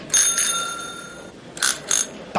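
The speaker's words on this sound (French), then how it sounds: "Est-ce que les sonnettes fonctionnent bien?" Quiz show answer bells ring in a quiet studio during a test before play begins: a sustained bright electric ring lasting about a second, then two short sharp rings in quick succession, close and alone.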